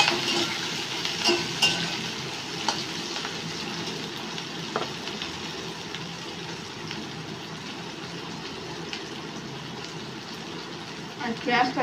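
Chopped onion with green chilli, cinnamon, cloves and cardamom hitting hot oil in a pan gives a steady, moderate sizzle and fry hiss throughout, with occasional stirring clinks; a voice talks over it.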